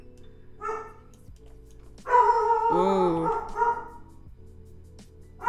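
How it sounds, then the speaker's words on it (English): A pet dog named Maverick barks and yips indoors, a short bark followed by a longer run of whiny, howling yelps, fairly close, with a brief exclamation from a person. "There goes the dog."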